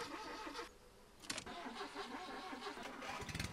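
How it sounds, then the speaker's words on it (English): A car engine in the driving game Jalopy cranks and starts: a brief rattling starter whir, a pause, then the engine catches and settles into a steady, rough mid-pitched idle, close and clear with no talk. "I've got to switch the engine on."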